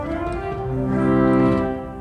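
Pipe organ sounding its violon 8 string stop, the only string stop on its division, a rich, buzzy sustained chord that swells slightly and shifts notes partway through, heard alone.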